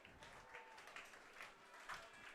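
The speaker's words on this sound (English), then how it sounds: "The clapping starts up again" Faint, steady clapping from a baseball crowd at a Fort Collins Foxes at Hays Larks game, a thin distant patter with light swells, no voice over it.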